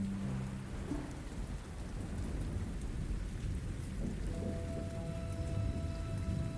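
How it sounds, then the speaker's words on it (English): Steady rain falls in a dense, even hiss, fairly quiet and continuous, with a low rumble underneath and faint tonal hums toward the end. "That rain sound you hear in the"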